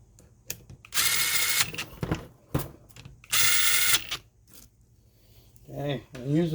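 A power tool drives bolts on the shifter assembly of a Honda CR85R dirt bike in two loud ratcheting bursts of about a second each. Quieter clicks and handling noise fall between the bursts, and a voice starts talking at the end.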